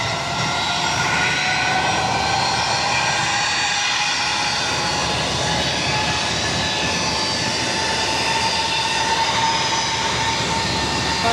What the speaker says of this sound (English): We also have Japan Airlines Flight 7 lined up, ready to go, and now starting takeoff roll